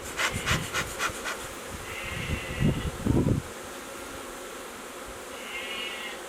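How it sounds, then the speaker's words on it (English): Honeybees around a hive with queen cells buzz in a steady, droning hum, joined by some nearby rubbing and scraping sounds early on, then the buzzing continues on its own. "So many bees here."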